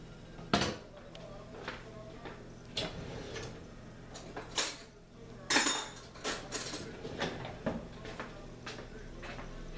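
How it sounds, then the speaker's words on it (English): A metal spoon clinks and taps against a crock pot while cream cheese is dolloped onto cinnamon rolls, with scattered sharp clicks and scrapes, fairly close and moderately quiet. "we're going to dollop our cream cheese on top"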